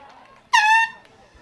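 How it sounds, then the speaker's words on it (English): An air horn blasts once from the crowd at a girls high school regional soccer playoff match, a single loud bright honk lasting about a third of a second over faint background noise. "Air horns are aplenty in the crowd tonight."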